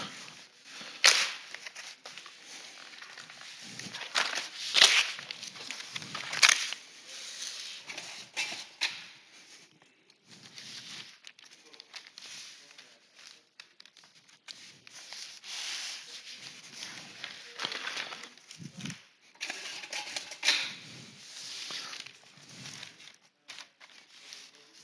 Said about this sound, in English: apply the tape